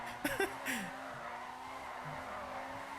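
A Dinka RT3000, modeled on the Honda S2000, drifts in GTA 5 with short tire squeals and skid chirps early on, then a steady engine drone carries on at moderate level.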